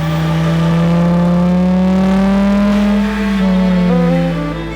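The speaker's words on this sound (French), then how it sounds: "on a aussi mis un exhaust pour enfin entendre le 5 cylindres gronder" A deep, steady five-cylinder engine rumble in a Volkswagen Rabbit with a throaty exhaust tone, idling loud and close with a slight shift in pitch partway through.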